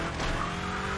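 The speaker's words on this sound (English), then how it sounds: "I'm doing a lot of fishtailing" A car fishtails in a racing video game, its rear end breaking loose in hard turns, giving a steady, loud tire skid over the engine drone, continuous for about a second.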